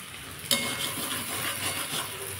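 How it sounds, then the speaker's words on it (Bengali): White sesame seeds fry in a pan for a Bengali potato curry, giving a steady, close sizzle with faint stirring and pan scrapes after a brief clink near the start, with no voices. "এটা একটু ভাজা হোক।"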